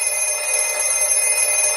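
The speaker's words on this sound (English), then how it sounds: "Now it just won't stop ringing." A telephone bell rings continuously, a bright, loud, sustained metallic ring with steady tone and no pauses or speech.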